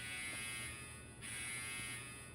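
LEGO noisemaker brick, a clear 2x4 brick, sounding a fire-truck-horn tone as a steady electronic buzz with a short dip partway through, faint and close.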